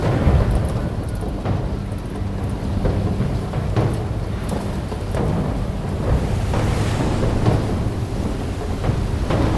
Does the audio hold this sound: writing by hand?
no